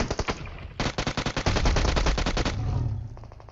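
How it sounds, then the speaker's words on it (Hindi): Rapid automatic gunfire from PUBG Mobile, with a few quick shots, a pause, then a long steady burst of evenly spaced rounds followed by a low rumble and lighter trailing shots. "जैसे भाई उसने फायर किया तो भाई उसको निपटा दिया"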